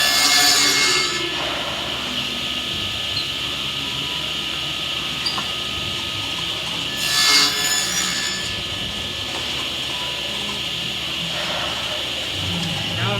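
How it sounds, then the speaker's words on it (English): Table saw cutting a dado groove in a wooden board, a steady loud whine of the blade running throughout with brief surges as the wood is fed, close by and continuous. "I'm going to barely tap the fence away from the blade, making it until I get to my desired width."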